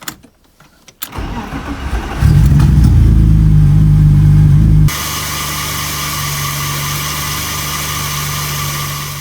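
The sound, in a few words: BMW M50 car engine running after being started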